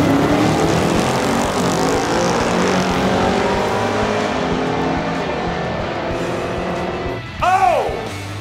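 A 1971 Chevy Vega race car roars loudly and continuously at a drag strip, with another engine sweeping past near the end.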